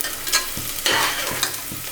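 Onions sautéing in a pan for a vegetable biryani, a steady close sizzle broken by several scraping stirs of a spatula, with no voices.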